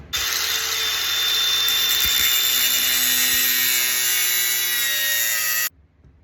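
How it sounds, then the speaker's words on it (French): An angle grinder cuts into a steel ABUS Granit 37 padlock, a loud, steady high-pitched whine of the disc grinding metal that holds for about five and a half seconds and then stops abruptly. "Je l'aurais bien testé à la disqueuse quand même."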